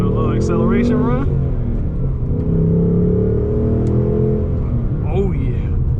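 A 2024 Ford Mustang GT with the 5.0 V8 and six-speed manual pulls hard under acceleration, its engine rumble rising through the gears on the road, with a voice briefly heard over it near the start and again near the end.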